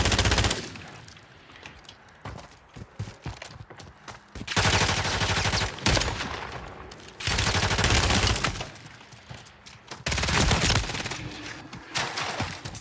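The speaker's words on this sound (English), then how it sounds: "Oh, shooting at a dummy." Rapid bursts of video game gunfire rattle against a training dummy in long automatic volleys, loud and close, separated by brief lulls with scattered single shots.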